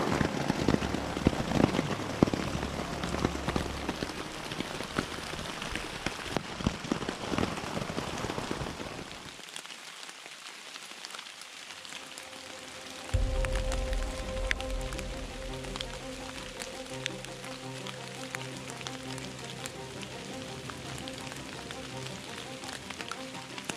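Steady rain falls outdoors on a winter hike in the Morvan, a loud broadband patter with wind. It drops out briefly partway through, then returns at a lower, steady level.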